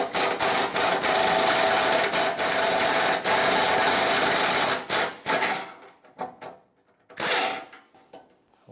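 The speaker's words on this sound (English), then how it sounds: "let's undo this bolt that connects the center piece of the bumper to this driver's side corner piece" A rusty 12mm bumper bolt on a 1996-2002 Toyota 4Runner being undone with a power tool, loud buzzing bursts broken by short pauses, then quieter clicks and a final brief burst.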